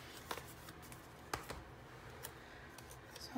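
Scissors cutting a paper hexagon in half for a planner layout, several crisp close snips and paper rustles at an uneven rhythm, quiet and without talking.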